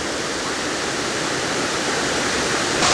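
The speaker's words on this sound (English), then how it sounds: "This is one of the best waterfalls I've seen" The large waterfall at Gooseberry Falls, Minnesota, roaring as a loud, dense, unbroken rush of falling water heard up close, with no voices.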